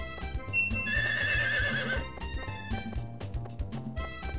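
A horse in Harvest Moon 64 lets out a clear neigh lasting about a second, set against bouncy chiptune background music with light hoof clops, no talking.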